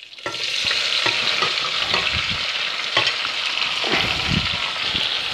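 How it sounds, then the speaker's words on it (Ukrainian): Chopped, salted onion added to a pan of browned veal, giving a steady loud sizzle and frying hiss with occasional stirring scrapes, close and continuous, no talking. "І даємо порізану і підсолену цибулю."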